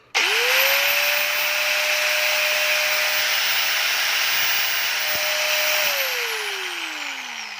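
A DeWalt DWE8100S 4-inch angle grinder whirs up to a loud, steady high-pitched whine with a hissing edge and slight gear noise, holds for several seconds, then winds down as it slows.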